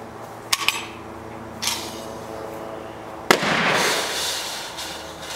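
An airsoft grenade goes off outdoors: a few sharp pops and a brief crack, then one loud burst that leaves a rushing, hissing spray trailing off over a couple of seconds, near and with no talk.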